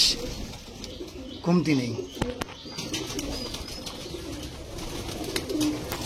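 A Lamba pigeon pair coos nearby in low, throaty bursts, with a brief sharp clatter and someone speaking briefly over the birds.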